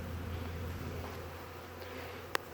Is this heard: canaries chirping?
no